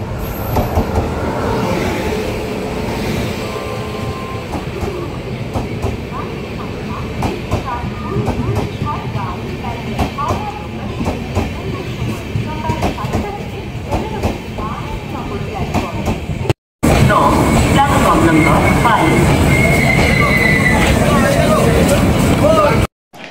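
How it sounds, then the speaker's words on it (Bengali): The Howrah–Dhanbad Black Diamond Express pulls into Bandel station with a loud, continuous rumble and rhythmic wheel clatter, while people talk over the noise and a station hubbub sits behind it. "এই যে এসে গেছে আমাদের ট্রেন।"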